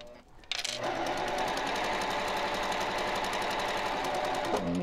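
A sewing machine stitches a pillowcase seam, starting with a sharp thump and then running at a steady fast rhythm for several seconds before stopping.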